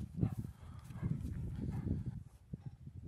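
A saddled pinto pony walks with soft clip-clopping hooves, close and fairly quiet, amid light background noise.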